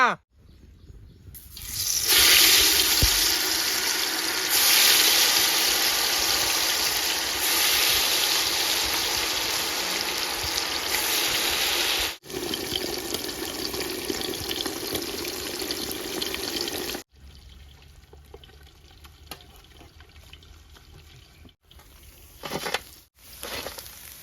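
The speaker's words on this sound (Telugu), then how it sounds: "మన నూనె అయితే మంచిగా గరం అయింది. ఇప్పుడు ఈ చేప ముక్కలు ఒక్కొక్కటి తీసుకొని అల్లు వేసుకుందాం." Fish pieces dropped into hot oil give a loud, continuous sizzle, which falls away in stages and ends in quieter crackling.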